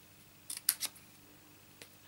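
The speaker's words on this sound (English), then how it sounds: "ribbon scissors" Ribbon scissors snip through paper while trimming butterfly antennae, giving a quick cluster of three or four sharp, close snips followed by a fainter single cut, with quiet surroundings.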